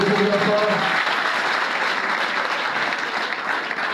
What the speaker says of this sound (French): Merci d'applaudir bien fort.